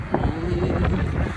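Outdoor wind buffeting a microphone, a constant low rumbling roar with gusty swells across a brief moment.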